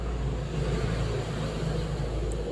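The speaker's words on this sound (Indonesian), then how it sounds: "Kalian kedengaran gak sih suara mobil?" A car engine idles very close by with a steady low rumble and hum, continuous and unchanging throughout.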